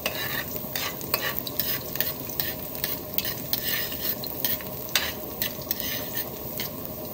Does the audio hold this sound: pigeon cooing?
no